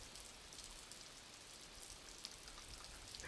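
Steady hard rain in a children's story scene, a continuous close hiss of drops pattering on a surface with a few brighter splashes, heard alone without any voices.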